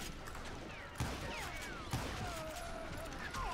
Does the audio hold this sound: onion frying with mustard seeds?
no